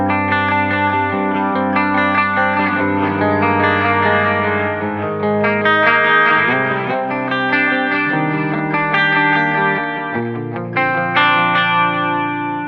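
Sustained electric guitar chords with a lush, shimmering stereo chorus effect and some distortion, wide and swirling, playing continuously with no voices.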